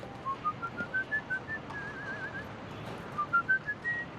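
A person whistles a rising, stepwise melody, clear short notes in two phrases separated by a brief pause, close and moderately quiet over a soft room background.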